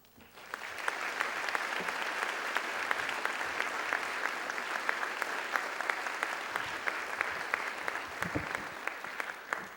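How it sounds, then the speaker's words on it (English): Sustained applause from a conference audience at a health journalism event in Baltimore, dense and steady clapping that starts abruptly and continues at an even level for about ten seconds without talk. "Thanks for the applause."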